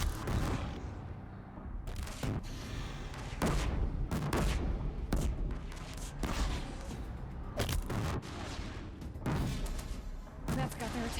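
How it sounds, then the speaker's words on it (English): Battle gunfire in Horizon Zero Dawn, with repeated loud booming shots and bursts arriving in irregular clusters over continuous combat noise. "Who's shooting?"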